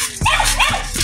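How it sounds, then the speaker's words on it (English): A big dog barks loudly and close by, a couple of strained, yelping barks in quick succession outdoors. "Oh, shit. Big dog."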